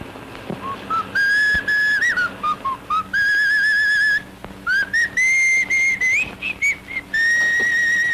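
A man whistles a wandering tune softly, half to himself, in clear sustained phrases with brief pauses between them and no talk over it, imitating a remembered whistle.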